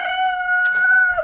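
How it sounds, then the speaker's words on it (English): A rooster crows once close by, a loud sustained tonal cock-a-doodle-doo lasting about a second and ending on a falling note. "the rooster bloody interrupted"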